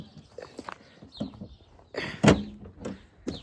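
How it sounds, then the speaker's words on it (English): A cabinet door in a camper van swings shut with a solid knock near the middle, amid small clattering handling noises and light knocks from the cabinet build. "So let me close this door right here."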